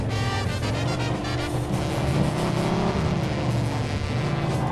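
A car engine in the video game Mafia 2 drones steadily at high revs, a continuous synthetic-sounding motor roar with no pauses.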